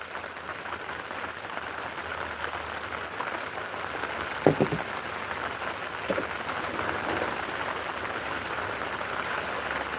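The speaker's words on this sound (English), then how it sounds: "It's been raining on my gas can." Steady outdoor rain falls on surfaces near a gas can, a constant soft hiss with a couple of louder drip impacts partway through, no talking.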